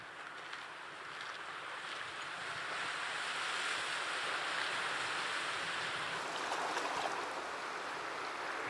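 Ocean surf washes continuously onto the shore, a broad steady roar that swells slightly midway, with some wind noise and no voices.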